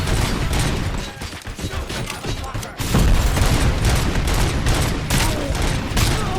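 Rapid gunfire from RoboCop: Rogue City during a fight with ED-209, dense loud volleys of shots that keep going over heavy rumbling combat noise, with a short lull before firing resumes.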